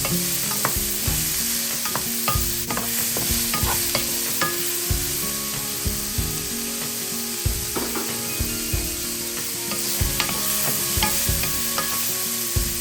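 Pork meat frying in a pan while being stirred, a steady loud sizzle with repeated rhythmic scraping strokes of a utensil throughout, close up and with no talk.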